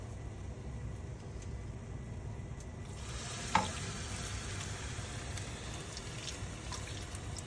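Paal kappa, a tapioca mixture, is stirred in a pan, with a soft continuous simmering hiss that grows a little louder midway and includes a brief utensil clink, and no voices.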